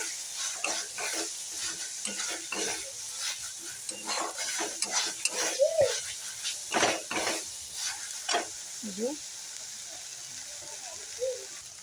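Spice paste for a Bengali okra and yogurt dish (doi dharosh) frying in oil in a pan, a steady close sizzle broken by repeated scraping stirs, with a few brief voice sounds.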